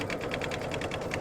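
Embroidery machine stitching a placement line for felt in an in-the-hoop pumpkin bag project, a fast regular needle rhythm of close repeating pulses, steady and near, with no talk.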